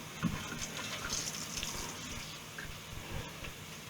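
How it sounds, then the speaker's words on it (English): Liver being rinsed under a running kitchen tap, a soft steady stream of water splashing into a sink, fairly quiet and continuous with no talking. "I think I'll rinse it off actually"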